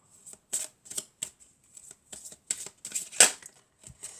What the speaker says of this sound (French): Alors on va prendre cette carte.